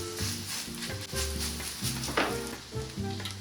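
Zucchini fritters fry in a pan over medium heat with a steady, close sizzle. Soft music plays beneath the frying throughout.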